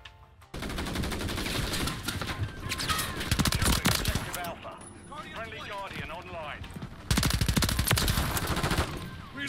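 An AMR9 submachine gun with a 100-round drum in Modern Warfare 3 rattles off rapid full-auto bursts, loud and close, broken by brief pauses, while a player talks over the action.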